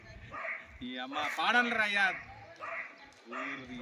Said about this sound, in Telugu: కుక్కరాజు ఒకటే అరుస్తున్నాడు